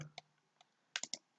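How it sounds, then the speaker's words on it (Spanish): Several sharp computer mouse clicks, made while pressing an OK button in statistics software: a couple of light, isolated clicks, then three quick, crisp clicks close together, near and clear in a quiet room. "vamos a dar clic en OK"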